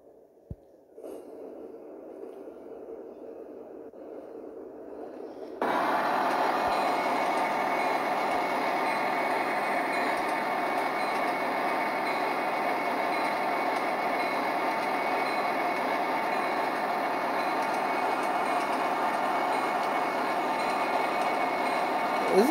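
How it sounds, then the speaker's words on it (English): In the Trainz 3 simulator, a Santa Fe local freight train is quiet and distant at first, then its rolling noise jumps to a loud, steady roar that holds to the end, with no voices. "Not bad, that's a Santa Fe local train"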